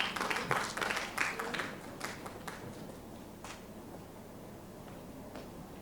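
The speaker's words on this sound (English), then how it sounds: "Please give Nini a round of applause" Scattered applause from a school speech-competition audience, distinct claps loudest at first and then thinning out into quieter sparse clapping and room noise.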